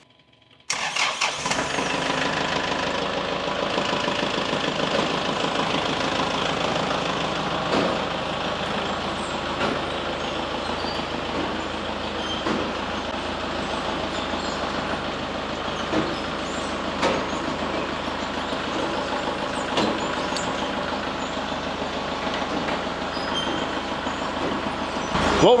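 A tractor engine starts up and then runs steadily, driving a cheap auction-bought implement fitted with a tensioner. A loud, constant mechanical drone carries on for the whole stretch, with faint clanks and rattles underneath.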